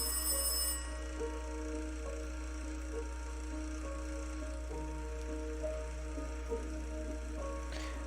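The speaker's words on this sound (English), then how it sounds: "The office phone rang." An office desk phone rings in the video game I Am You, a steady repeating electronic trill at moderate level over a quiet, humming room tone with no talking.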